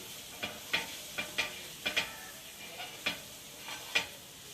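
A spoon stirs biryani masala in a pan with a steady rhythm of about ten clinks and scrapes against the metal over a soft sizzle, close and alone.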